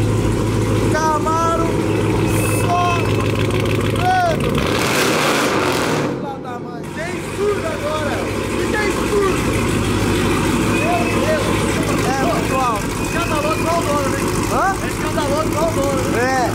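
A Chevrolet Camaro's engine rumbles steadily nearby, a continuous low drone with excited voices shouting over it and a brief dip midway.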